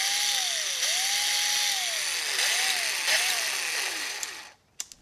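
An old Makita cordless drill, one of the classic top models, whirs in repeated rising-and-falling spin-ups and slowdowns, close and loud, then stops with a few small clicks.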